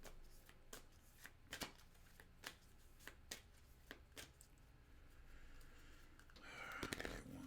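Tarot cards being shuffled in a quick riffle, a run of sharp papery clicks and flutters at close range, ending in a longer rustling burst.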